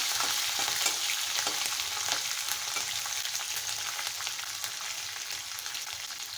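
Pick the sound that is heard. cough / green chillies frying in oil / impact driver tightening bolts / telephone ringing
green chillies frying in oil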